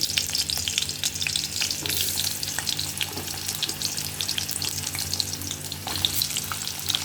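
Onions frying for a vegetarian dish, with a loud, dense crackling sizzle close by and steady stirring scrapes running through, with no talking.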